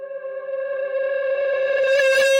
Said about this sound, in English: First thing I did was I took the long C note at the end and I just reversed it.